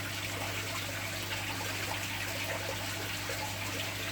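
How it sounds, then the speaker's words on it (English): Aquarium air bubbles rise steadily through the water of a DIY shrimp egg hatcher tumbler, making a constant soft trickling and bubbling under a low hum, with no pauses. "It's just a nice little bubble going up like that, and that will draw that water in."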